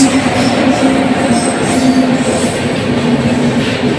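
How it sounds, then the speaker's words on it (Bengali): The 12102 Jnaneswari Express passes close by with a loud, continuous rumble of wheels on rail, a steady metallic whine and squeal riding over the clatter throughout. "ক্রস করছে 12102 জ্ঞানেশ্বরী এক্সপ্রেস"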